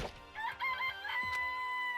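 A chicken in the video game Danganronpa: Trigger Happy Havoc gives a short, clear clucking call rising into a sustained crowing note, heard alone and close.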